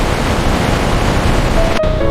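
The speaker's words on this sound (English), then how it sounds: "High-pressure water jets aggressively blast away every ounce of dirt." Dense steady roar of high-pressure water jets blasting dirt off cassava roots in an automated factory, continuous spray noise with a brief sharp click near the end and no voices.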